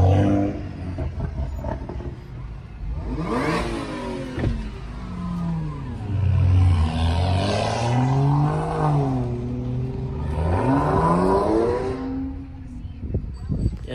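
A BMW i8's engine revs and accelerates in several sweeping surges, pitch climbing and falling through gear changes, loud and near, with a voice speaking over parts of it.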